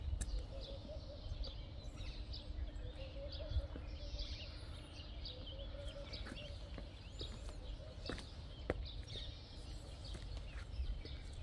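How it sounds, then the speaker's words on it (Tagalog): Doves, crows and other birds call quietly amid olive trees in Jerusalem, scattered chirps and coos over a low outdoor hum, faint and distant with no talking. "Ang mga maririnig mo dito is mga huni ng doves and crow and iba't ibang birds."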